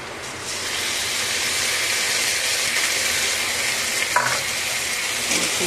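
Ground spice paste hits onions already fried red in a pan for chicken kosha, setting off a loud, steady sizzle and hiss with a brief stirring clatter near the end, close by.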